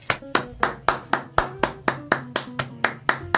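Hands clap in a slow, even rhythm, about a dozen sharp claps close by, with faint tonal sounds between them.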